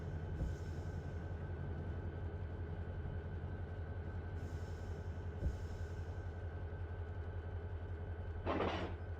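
Empty freight cars rolling in Run 8 Train Simulator during switching at a petroleum yard: a steady low rumble and hum throughout, with a faint thump and a brief hiss near the end.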